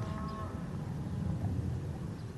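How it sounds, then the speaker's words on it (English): Cattle low and bellow near a feed truck on a farm, a steady mass of deep animal calls with one clearer moo early on, continuous and fairly loud. "You hear these cattle bellowing?"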